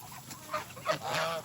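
A goose gives a few short, nasal honks close by, rising in a quick rough series of calls with no talk.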